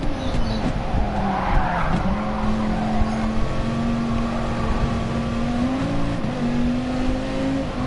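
In a Gran Turismo Sport online race, a race car spins out with a long, loud tire squeal that wavers over a steady droning engine note.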